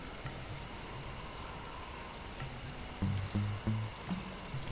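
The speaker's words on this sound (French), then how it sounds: "Je suis derrière la cascade." A waterfall in the video game Sly 2 gives off a constant rushing roar of water at moderate level, with some low thuds and tonal game sounds cutting in near the end.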